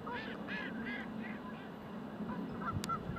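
Several geese honk in short repeated bursts at moderate distance, with softer duck quacks mixed into a steady outdoor background.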